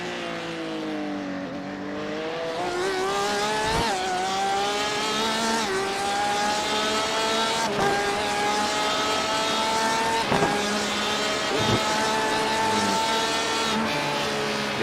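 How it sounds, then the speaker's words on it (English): Onboard a Super GT race car, the engine rises and falls through shifts out of a hairpin, then eases as the driver lifts off the throttle and coasts, a steady, loud mechanical whine with sharp shift breaks. "Shifting out of the hairpin, and he's lifting off and coasting through."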